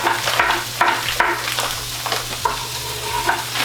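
Onion, rice and Italian seasoning frying in a pan with a steady sizzle, while a utensil scrapes and stirs in repeated strokes, close and fairly loud with no talk.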